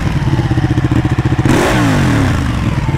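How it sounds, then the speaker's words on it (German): A Ducati motorcycle at idle with a deep, bassy exhaust and a loud, close rhythmic clatter, which swells in a brief rev partway through and then settles back to a rough pulsing idle. "So dieses typische Ducati-Klackern."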